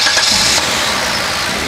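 A 3.8-litre Hyundai Veracruz V6 with variable valve timing, a 2007 model, turns over and settles into a steady, loud idle that runs throughout, heard close up with no talking.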